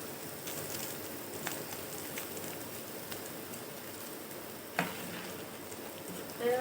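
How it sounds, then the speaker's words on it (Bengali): Sabudana (tapioca pearl) snacks deep-frying in oil give a steady, dense hiss and crackle with scattered small pops, close and even throughout, with a slightly sharper spurt near the end. "তেলের উপর এক এক মিনিট মতো নাড়ি নাড়িয়ে ভেজে নিতে হবে সুন্দর করে"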